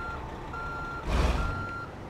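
Reversing beeper on a truck backing up in American Truck Simulator, a steady high tone repeating over a low engine rumble, with a louder surge of engine noise midway.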